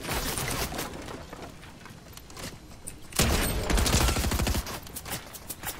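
Rapid video-game gunfire from enemy players, dense bursts of shots filling the scene, loudest in a heavy volley midway and then tapering off, with no talk over it.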